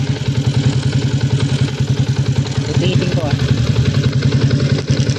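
A Yamaha Sniper 150 motorcycle engine idles with a rapid, steady mechanical clatter and ticking from a worn cam chain tensioner over the running rumble, while a person speaks briefly nearby.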